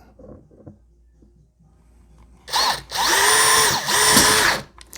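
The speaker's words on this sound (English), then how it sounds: "let's start with the first pilot hole. We're going forward." Power drill boring pilot holes into a tough plastic tote for a small hydroponic unit: quiet handling noises first, then a loud whining run of about two seconds with a brief dip midway, close up.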